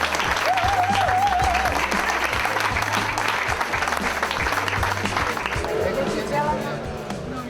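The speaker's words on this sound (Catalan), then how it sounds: "Ei, necessito gent aplaudint ara" A crowd applauds loudly and steadily at a political campaign event, the dense clapping holding throughout with a low musical tone and other voices audible beneath it before it eases slightly near the end.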